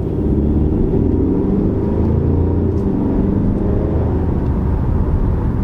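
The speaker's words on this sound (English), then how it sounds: "you can hear that turbo kicking in" A 2024 Hyundai Sonata N Line mid-size sedan's turbo engine hums and rises steadily under acceleration, a loud continuous low drone heard from inside the cabin with no talking.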